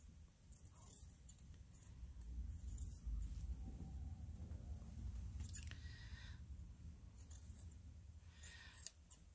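Scissors cutting fabric pattern pieces for a memory bear, faint, close snips and paper-fabric rustles over a low background hum, with a sharp click near the end.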